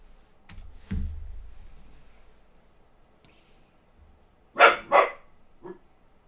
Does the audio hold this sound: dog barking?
yes